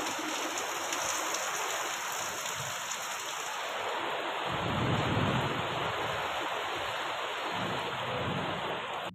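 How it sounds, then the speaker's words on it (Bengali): Steady heavy rain hisses throughout, with a low rumble swelling midway like distant thunder; no voices. "আমাদের এখানে কি পরিমাণ ঝড় বৃষ্টি হচ্ছে দেখো।"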